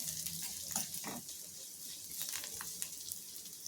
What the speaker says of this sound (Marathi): डाळी जिरं मोहरी छान तळलं गेलं पाहिजे